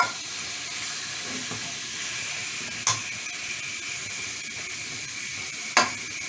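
Fajita meat and vegetables frying in oil in a pan, a steady bright sizzle throughout with two sharp clicks or taps from stirring, close and moderately loud with no talking.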